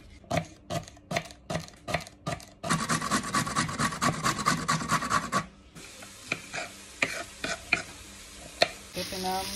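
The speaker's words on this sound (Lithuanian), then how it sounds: "Kepinam daržovėlės" Chopped vegetables fry and get stirred in a pan: a run of sharp spoon or spatula scrapes, then a dense stretch of sizzling with rapid stirring, then more spaced scraping strokes, close and fairly loud with no talk.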